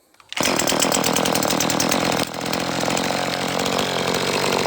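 A small ECHO two-stroke gas chainsaw fires up after a brief silence and runs at a loud, steady buzzing idle, close by, with a slight dip partway through.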